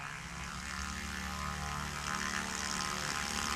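A STOL airplane's propeller engine drones steadily at a Music City STOL competition practice, a sustained buzzing roar that builds slightly as power comes up.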